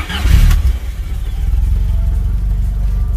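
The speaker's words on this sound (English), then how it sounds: "let's start the car." A FIAT Spider's engine starts after its cooling system has been refilled: a brief cranking burst, then it catches and settles into a steady, close, throbbing idle.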